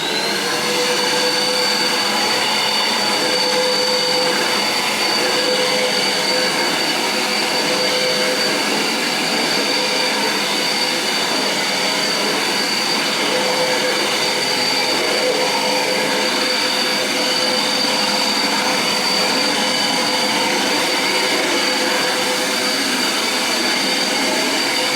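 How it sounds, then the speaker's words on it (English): A Eureka Airspeed bagless vacuum cleaner runs steadily over a hard floor, giving a loud, continuous motor whine and airflow roar that holds unbroken for the whole stretch, with no talk over it. "so I'll go ahead and turn it on. and clean that up."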